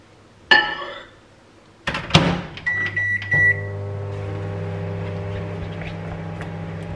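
Cream being heated in a microwave oven for a chocolate ganache: a door clunk and clinks of a dish set inside, a few keypad beeps, then the oven's steady low hum running on, close by with no talk.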